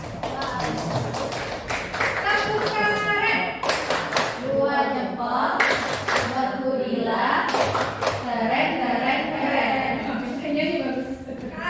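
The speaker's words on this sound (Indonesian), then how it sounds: "Tepuk tangan. Dua jempol." A group claps hands in applause in a classroom setting, with bursts of rhythmic clapping and taps coming and going while people talk over and between them.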